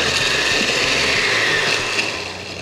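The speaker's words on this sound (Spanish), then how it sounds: "ahora comenzamos a traer todo a nuestra licuadora" A blender whirs loudly and steadily as it purees a smoky roasted chili salsa, the motor's tone shifting slightly as the contents churn, then easing near the end.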